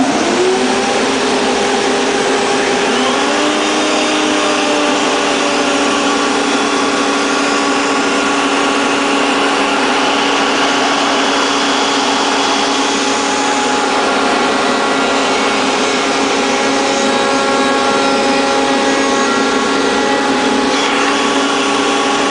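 A router in a router table mills the surfaces of a wooden box, giving a loud, continuous high-pitched whine that hardly changes for the whole stretch, with no voices.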